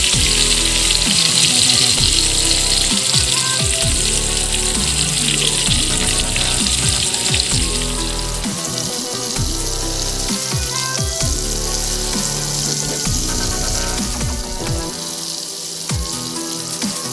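Cauliflower frying toward golden brown for an Arabian-style white macaroni pasta dish, a loud, dense, close sizzle with bubbling crackle that holds steady throughout and eases slightly toward the end, no talking.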